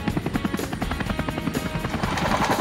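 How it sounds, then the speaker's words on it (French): A cartoon helicopter flying in, its rotor chopping in a steady, loud, rapid beat that grows slightly stronger toward the end, with no talking over it. "En hélicoptère!"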